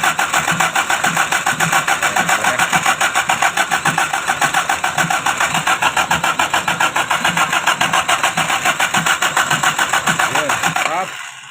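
A Toyota 5K engine cranks without catching, a fast rhythmic churning of the starter that runs loud and steady for about eleven seconds and then cuts off.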